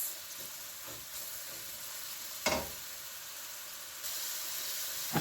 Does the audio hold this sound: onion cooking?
yes